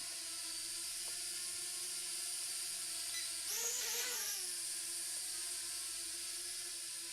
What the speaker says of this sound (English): So I'm going to try to use the auto takeoff. And you can see it works. Flies like any other drone.